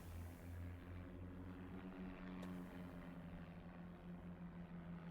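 Drone of a bomber aircraft in The Great War: Western Front, a steady propeller-engine hum with a low tonal whine that holds throughout at moderate, even loudness, with no voices.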